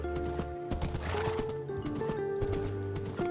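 Horse hooves clip-clop in a video game as a rider travels, a steady rhythmic clatter of close, fairly quiet hoofbeats over faint game music.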